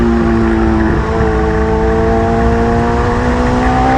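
A Hayabusa-powered open-cockpit race car runs flat out at around 160 mph, its engine a loud, steady high-pitched drone with constant wind roar throughout, no speech.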